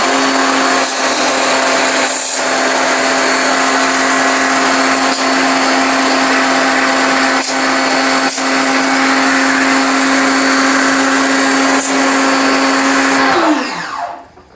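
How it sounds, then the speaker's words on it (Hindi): A pressure pump washes dirt from severely clogged AC coils, droning loud and steady with a constant whine and faint periodic ticks, then cutting off and winding down at the end. "प्रेशर पंप से जितनी भी गंदगी थी वो सारी की सारी एकदम साफ़ होती चली जा रही है"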